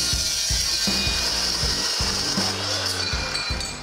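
Saw cutting 1.5-inch square steel tubing for a Willys wagon frame, a steady close grinding rasp with rhythmic strokes roughly every half second and a low droning tone partway through, with no talking.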